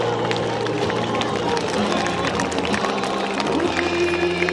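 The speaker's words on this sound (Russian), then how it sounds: "Аплодируем, «Локомотив Москва»." Audience applause and crowd noise at a televised children's event honouring young Lokomotiv Moscow railway players, a steady dense wash of clapping throughout.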